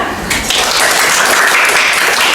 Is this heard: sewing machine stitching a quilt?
no